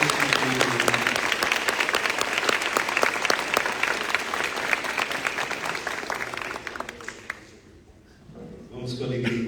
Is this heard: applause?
yes